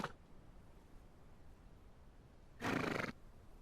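In The Legend of Khiimori video game, a horse lets out a single loud, close whinny near the end, after a brief snort at the start over a quiet game ambience with no talking.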